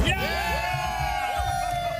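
Football fans in Commonwealth Stadium roar and whoop together in a dense, sustained wall of cheering, with shrill individual yells rising above the crowd throughout.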